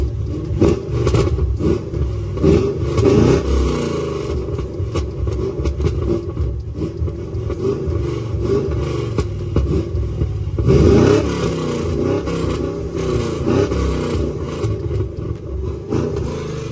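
A car engine revs repeatedly, close and rumbling, with rough crackling bursts from the exhaust between throttle blips and no talk over it.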